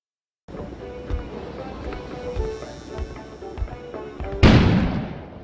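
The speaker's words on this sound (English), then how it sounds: "An explosion suddenly occurred outside." A loud explosion bursts outside in the video game Kona, a sudden booming blast with a long decaying rumble, preceded by several dull thuds over a low ambient background.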